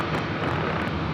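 Delta Airlines Boeing 757-200 jet passing at Los Angeles International Airport, a loud, dense, steady engine roar close by that fills the whole moment with no break.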